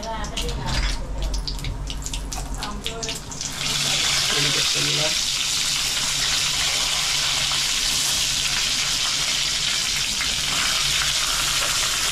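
Onion and curry leaves hit hot oil with asafoetida for medu vada. After a few seconds of clattering kitchen noise, a loud, dense sizzle bursts up and holds steady, close by.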